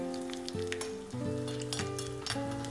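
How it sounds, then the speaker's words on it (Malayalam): Mustard seeds, fenugreek, dried chillies and curry leaves sputtering in hot coconut oil produce a faint, steady sizzle with light crackles, while a sustained tonal hum shifts pitch underneath. "കുറച്ച് വെളിച്ചെണ്ണ ഒഴിച്ചു, 1/2 ടീസ്പൂൺ കടുക്, 1/2 ടീസ്പൂൺ ഉലുവ, 2-3 വറ്റൽ മുളക്, കുറച്ച് കറിവേപ്പില"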